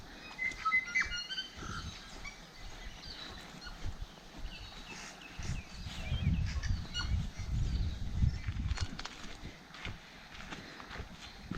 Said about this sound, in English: The birdsong's just beautiful.